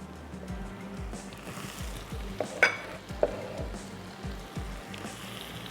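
Garlic-ginger paste and chopped tomatoes fry in a pan with a steady close sizzle, broken by rhythmic stirring scrapes and a couple of utensil knocks.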